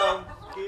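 Backyard coop hens give a short burst of clucking, close and fairly loud, fading slightly before a final cluck.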